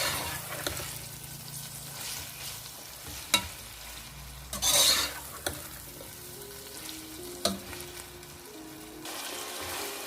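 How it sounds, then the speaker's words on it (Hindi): Pasta masala frying in a pan, a continuous crackling sizzle broken by occasional spatula scrapes and knocks, with a louder stirring burst midway and no talk. "इसको हम इसमें ऐड कर देंगे और ऐड करने के बाद इसको हम 3 से 4 मिनट तक अच्छे से फ्राई करेंगे।"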